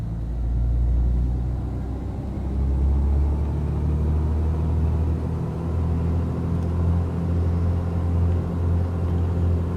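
Twin piston engines of a Baron aircraft in a flight simulator, throttled to about 1700 RPM, drone as a steady low rumble that holds close and even throughout, with no speech over it.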